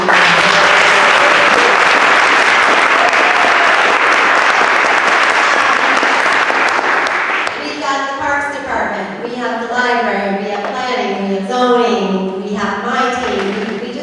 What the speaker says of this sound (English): I would like it if everybody would give a big round of applause to all the county staff